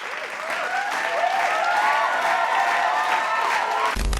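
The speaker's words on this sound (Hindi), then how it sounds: "तो मनरो को ज़रा ठोक दो तालियाँ।" A studio audience applauding steadily for about four seconds, dense clapping that builds slightly and then cuts off abruptly at the end.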